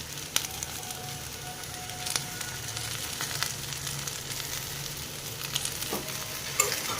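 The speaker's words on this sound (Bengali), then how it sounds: "এবার এটাকে আবারও একটু ভালো করে ভেজে নেব" Okra sizzles steadily in hot oil in a pan after salt is added, a soft continuous frying hiss broken by occasional clicks of a stirring spoon, close by and without talk.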